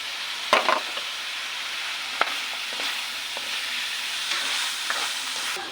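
Shrimp hit a hot pan of chopsuey and get stir-fried, a steady close sizzle broken by sharp scraping clatters of the utensil against the pan.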